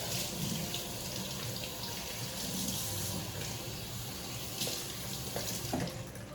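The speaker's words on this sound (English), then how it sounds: "I'm gonna cut my celery next. Gotta wash it." A kitchen faucet runs steadily while fresh celery is washed under it, a constant soft splashing stream at moderate level with no talk.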